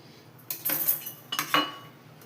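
A knife cuts through an egg on a plate, giving two short scraping, clinking bursts of metal against the dish, close and fairly quiet, with no talking.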